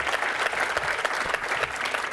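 Brief burst of steady applause from a graduation audience after student speeches, dense clapping from many hands filling the hall, no voices over it.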